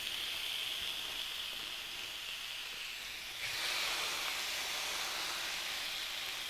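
Thinly sliced ribeye steak sizzles on a hot Cuisinart Griddler GR-4N for a panini, a steady hissing crackle that jumps noticeably louder and brighter partway through, with no voices.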